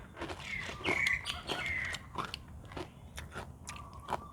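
Crisp baked vegetables bitten and crunched up close, several sharp crunchy bites with chewing between them, fairly faint, with no talking.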